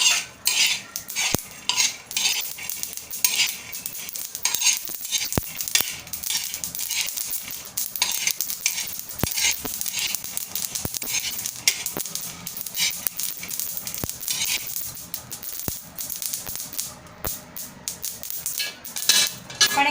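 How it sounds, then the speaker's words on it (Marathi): Peanuts and white sesame seeds are stir-roasted in a pan, the spoon scraping and clinking steadily against the metal with a faint dry sizzle throughout, close and continuous with no talk. "2 मिनिटं परतून घेऊया।"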